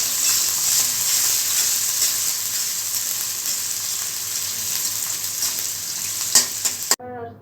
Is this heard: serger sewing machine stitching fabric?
no